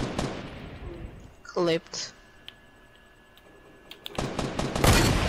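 Bursts of gunfire in the video game Fortnite, a dense crackling volley at the start and another loud stretch near the end, with a voice speaking briefly between them.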